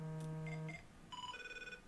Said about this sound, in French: C'est la sonnerie de 24 heures chrono